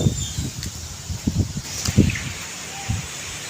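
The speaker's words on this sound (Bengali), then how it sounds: "কিরম হাওয়া দিচ্ছে দেখো" Gusts of strong storm wind rumble and buffet in uneven bursts near the microphone, with a faint rustle of garden leaves and plants behind them.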